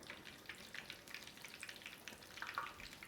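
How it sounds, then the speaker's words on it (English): Steady frying sizzle with crackling pops as a tortilla crisps in hot oil, moderately loud and continuous, no voices. "We're just frying the tortilla just to make sure we get some color on it"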